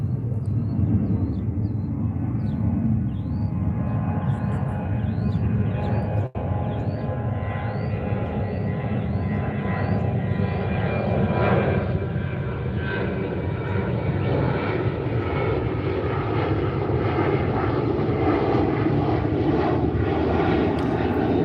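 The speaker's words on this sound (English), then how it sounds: "I'm gonna let this plane pass." A propeller airplane passes overhead, its steady loud engine drone holding throughout and swelling slightly as it goes by, with no talk over it.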